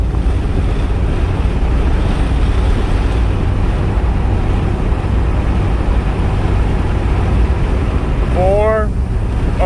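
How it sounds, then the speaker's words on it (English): Steady, loud wind buffeting the microphone throughout, roaring broadband with no break, while driving a GM truck with a 480 transmission; a brief squeaky tonal chirp appears near the end. "Oh, it's windy."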